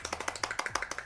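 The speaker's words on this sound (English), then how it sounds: "How about one-handed clapping?" One-handed clapping performed close to a microphone by a show host: about a dozen sharp, evenly spaced claps in just over a second, a quick steady rhythm.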